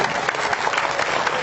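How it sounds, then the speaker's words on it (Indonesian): Audience applause at a live cultural gathering and talk forum, a dense steady clapping that fills the clip at moderate loudness with no voices over it. "tepuk tangan Mas Pepen."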